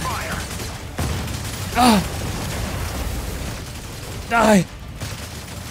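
In the video game Mecha Break, mech weapons keep up a continuous roar of gunfire and blasts, with two short, louder bursts that ring and descend in pitch, while a player speaks a word over the action.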